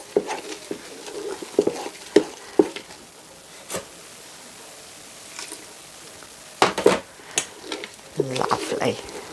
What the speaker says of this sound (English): I'm going to go in with another good knob of butter, and we're just going to mix that through